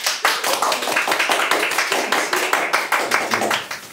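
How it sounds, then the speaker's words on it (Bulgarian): Steady, rhythmic clapping rings out close and loud in a Bulgarian comedy news show studio, the claps evenly spaced for several seconds with no voices over them. "пляскайте, моля"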